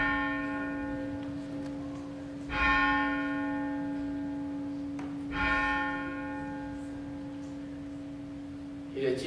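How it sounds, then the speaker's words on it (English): A church bell cast in 1885 rings with two clear, resonant strikes a few seconds apart, and each long humming tone lingers steadily between the strikes. "Have you heard of the bell sound?"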